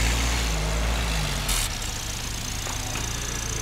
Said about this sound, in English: Oh, that engine sounds nice.